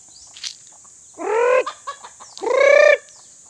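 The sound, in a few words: roosters clucking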